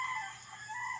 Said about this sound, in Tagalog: Yung ating manok dito pa sa loob, oh.